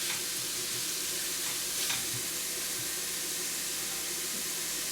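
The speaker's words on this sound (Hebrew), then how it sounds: "אני מטגן את הבצל עד להזבה." Onions fry in a pan with a steady, close sizzle and light stirring scrapes throughout, with no voices.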